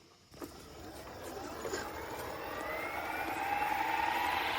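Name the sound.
RC Huey UH-1 450 size helicopter rotor spooling up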